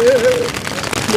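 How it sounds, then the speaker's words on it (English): Steady rain falls outdoors in a broad, even patter, close and moderately loud, with a brief faint tonal sound near the start and no speech. "It's raining."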